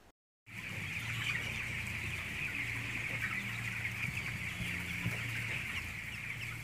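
Broiler chickens in a closed poultry house, a steady dense chorus of clucking from many birds under a constant machinery hum, alone after a brief silent start.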